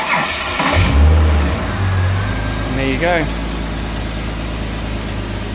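A Holden VT Commodore Ecotec engine, fitted into an HJ Holden and unused for 18 months, cranks briefly, catches with a rev and then settles into a steady, smooth idle close by while someone speaks briefly.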